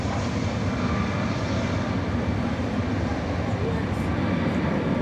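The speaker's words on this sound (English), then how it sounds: "This is the American 777 that's going to Los Angeles." American Airlines Boeing 777 bound for Los Angeles at DFW Airport at night, a steady broad engine roar held evenly throughout, with a voice talking faintly over it.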